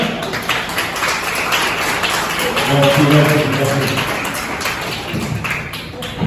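An audience claps in a loose patter of hands with a few thumps, while voices talk over the applause.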